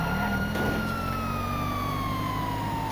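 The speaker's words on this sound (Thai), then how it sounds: "ตำรวจเร็วรีบตามมาเปิดไซเรนอยู่" A police car siren wails continuously in a slow, drawn-out falling tone, loud and close over steady engine and road rumble, with no talking.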